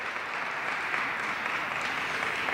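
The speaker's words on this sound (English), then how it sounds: "Give them a round of applause." An audience at a college men's basketball game applauds the Athlete Social Justice Coalition, a steady, even wash of clapping that stays moderately quiet and continuous throughout.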